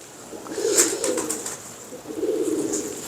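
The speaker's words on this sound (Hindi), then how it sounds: "ये बड़ा मजबूत कबूतर है।" A sturdy pigeon coos softly nearby in two low, throaty bursts separated by a short pause, with faint higher chirps in the background and no voices.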